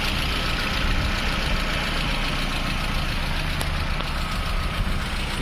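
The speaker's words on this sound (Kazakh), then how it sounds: "Дейді осындай мотор міне. Сағат сияқты жұмыс етіп тұр мотор." A GAZelle engine idles at a used-car market in Taraz, a steady, even rumble with a constant hum that holds level throughout, close and unbroken, with no voices.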